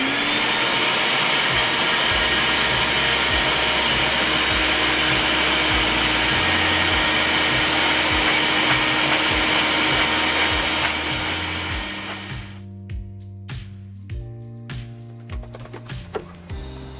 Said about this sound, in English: Now for the dreaded blow and brush.